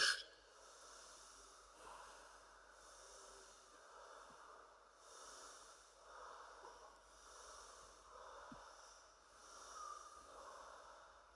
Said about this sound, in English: we're gonna take an obnoxiously deep breath in